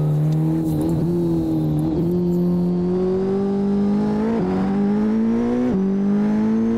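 A Koenigsegg Jesko 2023 hypercar, rated at 1600 hp, accelerates hard in Assetto Corsa. Its engine drones loud and steady, climbing in pitch, with several quick dips at the gear shifts and no talk.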